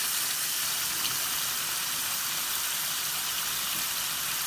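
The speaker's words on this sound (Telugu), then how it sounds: "దీంట్లో కొంచెం వాటర్ కూడా పోసుకోవాలి" Water is poured into a Hyderabadi-style mutton korma cooking in a pressure cooker, making a steady, continuous rushing splash for several seconds with no talking.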